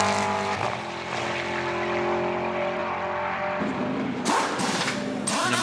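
An Attempto Racing McLaren GT race car runs on a circuit in a Blancpain Sprint Series practice session, its engine a sustained, droning roar that shifts in pitch as it passes, followed by rougher bursts near the end.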